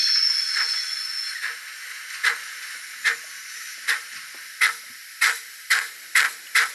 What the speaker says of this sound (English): I think there's a flange squeal here